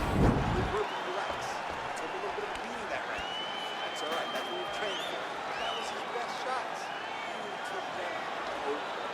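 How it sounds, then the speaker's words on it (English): A steady crowd roar from the arena in the UFC 4 video game fills the background as a round begins, with a commentator talking over it throughout. "The crowd on its feet as this next round gets underway."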